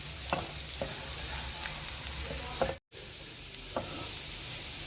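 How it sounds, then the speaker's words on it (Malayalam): Ginger and garlic sauté in a pan as the base of a vegetable soup, a soft steady sizzle with occasional spoon taps against the pan and a momentary cut in the sound partway through. "ഇഞ്ചിയും വെളുത്തുള്ളിയും നല്ലതുപോലെ വഴന്നിട്ടുണ്ട്."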